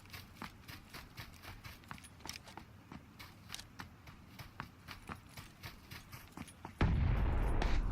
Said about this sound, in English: I think that might have been their vehicle just blowing up right now.